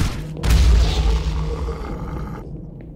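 An enemy grenade blows up in the shooter game Project Warlock 2, a loud close boom with a heavy low rumble that rolls on and fades over a few seconds.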